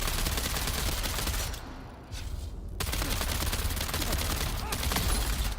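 Dense, continuous gunfire bursts from a video game set on the desert planet Arrakis, loud and close, with a brief lull midway before the shooting resumes.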